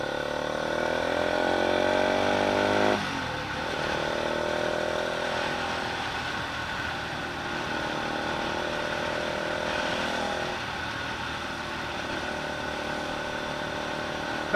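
A Bajaj Pulsar RS 200 motorcycle is ridden, its engine droning steadily and close, with rising revs that drop abruptly as gears change, then settling into a lower, even hum.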